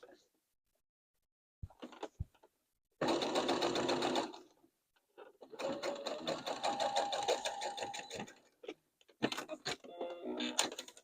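A sewing machine stitches a fabric wine bag in short bursts, a close, rapid mechanical whirr that starts and stops several times with pauses between runs.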